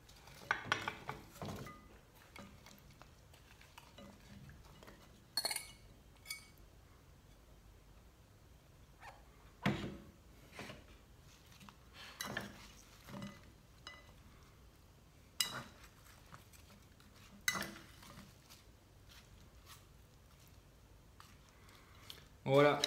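A salad being tossed and mixed by hand in a bowl, heard as intermittent soft rustles with sharp clinks and knocks scattered through a quiet room.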